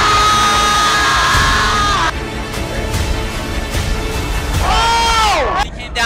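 A high school student section at a district final basketball game yells, whoops and cheers loudly and steadily throughout, a dense wall of crowd noise with rising shouts near the end.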